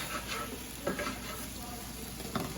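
A metal spatula scrapes across a Blackstone 17-inch E-Series griddle deglazed with water, sizzling and hissing steadily beneath a few sharper scraping strokes, up close and without talk.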